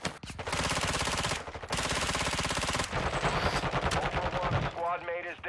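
Rapid automatic gunfire in the Call of Duty DMZ mode, long sustained bursts separated by short gaps, loud and close, ending in a chaotic flurry with other game sounds.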